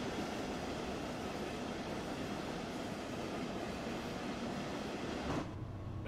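An empty train runs through snowy Dresden in Train Sim World 2, giving a steady, loud rolling rumble with rail noise that shifts near the end.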